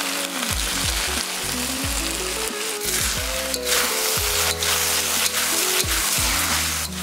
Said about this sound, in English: We're going to stir fry everything for about one more minute.